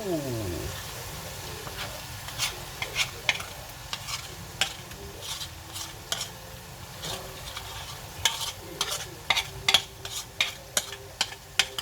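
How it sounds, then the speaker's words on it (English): Curry paste sizzles and fries in a pan for a homemade chicken curry while a utensil stirs and scrapes it in repeated strokes, close and steady, growing more rhythmic toward the end. "just gonna mix it up. The curry paste is very heavy."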